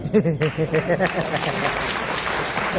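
An audience at an anniversary celebration claps in a steady, dense burst of applause, with a voice audible over the opening moments.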